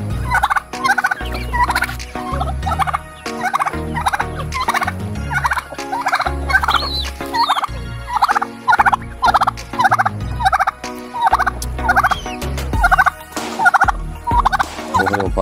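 Turkeys gobbling on a rural countryside farm, rapid warbling calls repeating in quick overlapping bursts from several birds, close and loud with no talk.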